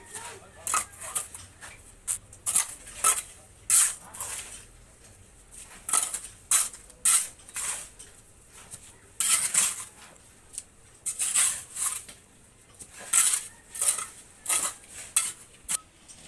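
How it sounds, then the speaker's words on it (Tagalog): Workers mix concrete by hand at a house construction site to pour a post, with repeated scraping and clinking strokes coming in irregular bursts at moderate distance and no talk. "naghahalo na po po sila ng halo doon para po pambuhos sa poste"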